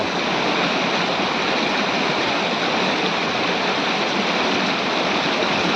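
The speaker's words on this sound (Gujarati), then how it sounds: "અહીંયા ધોધ પડી રહ્યા છે, જો ધોધમાંથી પાણી પણ આવી રહ્યું છે" A waterfall and a stream run down from the hills near the Sandhida Mahadev temple, producing a loud, continuous rushing roar heard up close and steady throughout.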